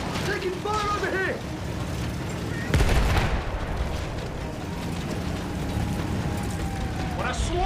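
Battlefield 1 battle in the muddy World War I tank chapter: distant gunfire and heavy booms of artillery over a rumbling engine, with shouted voices throughout.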